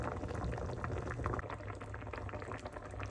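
Tuna paksiw bubbles in a pot, a soft, quiet, continuous burble with small pops, heard alone and fairly close.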